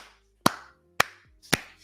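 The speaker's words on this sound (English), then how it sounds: "That's all you get is a round of applause" Three sharp isolated hand claps spaced about half a second apart, each a crisp slap with a short decaying tail, alone without talk, a sparse, slow round of applause.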